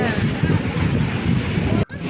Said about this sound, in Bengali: তোমরা দেখতেই পাচ্ছ সমুদ্রের গর্জন শুনতে পাচ্ছ কত